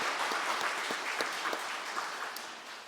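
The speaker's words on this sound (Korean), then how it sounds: "자, 한 번 더 박수합니다." Steady applause from a church congregation at a prayer meeting, dense continuous clapping that holds for a few seconds and fades slightly toward the end.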